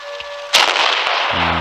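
A single loud tank cannon shot from World of Tanks Blitz, a Pz. II game session, cracks sharply after quiet engine hum, then rings out in a long decaying tail as a low tone rises at the end.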